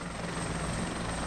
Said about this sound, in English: Chopper's going in.